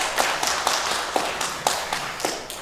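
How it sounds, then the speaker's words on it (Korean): A church congregation claps in welcome during a Sunday worship service, a steady, dense round of applause from many hands filling the hall for a few seconds. "저 뒤에 계시는데 우리 박수로 환영하겠습니다."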